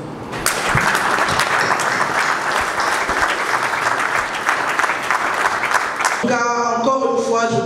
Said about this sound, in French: voudrais que nous applaudissions notre orateur